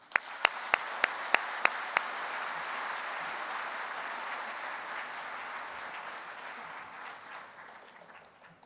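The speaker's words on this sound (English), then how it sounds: "please join me in one final round of applause for these remarkable individuals" Audience applause at the Kansas FFA Convention, opening with several sharp, evenly spaced loud claps or beats, then a broad, sustained round of clapping from a large crowd that gradually fades.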